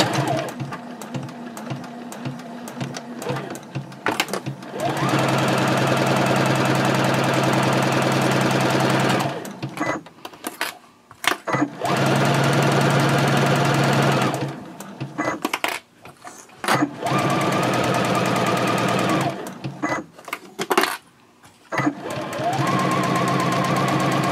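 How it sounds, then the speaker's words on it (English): A sewing machine stitches straight seams with backstitching on a reversible drawstring gift bag, running in loud close bursts of rapid mechanical whirring and clatter, separated by short pauses. "Now you'll just go ahead and sew the other 3 seams"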